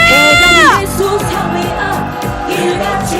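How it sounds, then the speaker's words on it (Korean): A protest crowd at a candlelight march calling for President Yoon Suk Yeol's impeachment bursts into loud shouting and cheering, opening with a long falling yell before many voices roar together close by. "윤석열 탄핵의 함성 질러봅시다. 함성 시작!"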